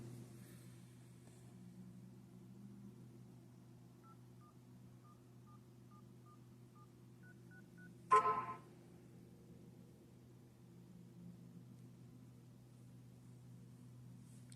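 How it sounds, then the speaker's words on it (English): A Samsung Galaxy S23 plays a short sequence of soft, evenly spaced dialing tones as a call is placed, followed by a brief louder click, all in a very quiet room. "Let me make a call so you guys see that it's now working."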